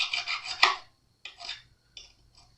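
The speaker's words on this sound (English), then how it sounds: "all we're doing is ever so carefully filing down this one fret" A metal file scrapes along a single fret on a Fender Stratocaster guitar in three short, close rasping strokes. The first stroke is the longest and loudest, and short silences fall between them.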